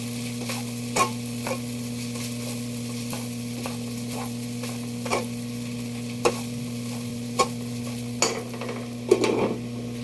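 Dried fish such as tuyo and danggit frying in a pan while being stirred, a constant low sizzle broken by sharp scraping clicks of the utensil every second or so, close by and without talk.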